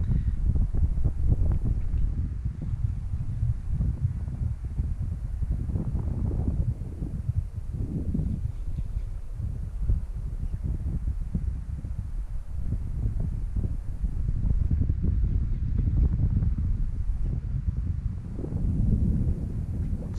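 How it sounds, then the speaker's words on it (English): Southeast wind blowing outdoors at Middlingbank on Lake Eucumbene during a cold, overcast summer day of trout fishing, a steady low buffeting rumble that swells and eases throughout, with no talking. "That southeast wind is puffing along."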